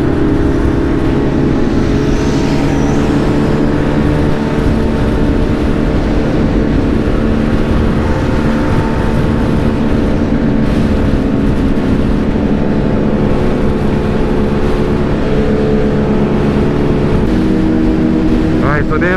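A group of motorcycles, including a 600 and a stunt bike, riding in a line on a Wednesday night ride, a loud continuous engine drone with shifting tones and wind rush.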